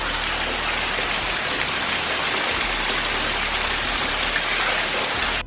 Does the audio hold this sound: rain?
yes